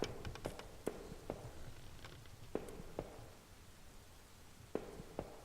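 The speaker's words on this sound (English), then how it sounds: "I hear people walking" Footsteps of people walking through a house in a horror video game, a series of soft irregular thuds at varied spacing over a quiet, muffled background.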